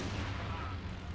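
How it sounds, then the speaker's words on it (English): A strafing run from a Company of Heroes 2 match on the Moscow Outskirts map, a dense rumbling barrage of gunfire and booms, loud and continuous with a voice talking over it. "We see a strafing run coming down here from Leah."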